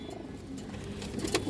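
High flyer pigeons coo softly in a loft, low murmuring calls repeating close by, with a slightly louder burst near the end.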